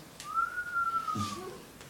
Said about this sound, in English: low whistle of amazement